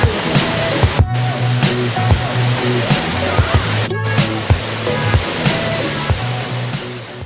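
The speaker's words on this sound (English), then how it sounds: "this waterfalls is called Meenmutty Waterfalls" Meenmutty Waterfalls in Kerala roars as a steady, loud rush of falling water, broadband and continuous throughout, with faint voices and brief knocks in the background.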